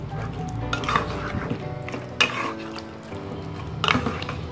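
Mutton for a spicy mutton masala is stirred in a hot pan with a spoon, giving a steady sizzle broken by a few sharp scrapes and clinks against the metal. No one speaks.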